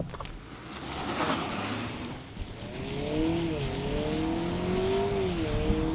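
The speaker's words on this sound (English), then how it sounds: "We'll just mat it and see what happens." A 2026 Honda Prelude two-motor hybrid pulls hard at full throttle in sport mode, a steady in-cabin drone rising in pitch with stepped synthetic shift changes partway through, moderately loud and without talk.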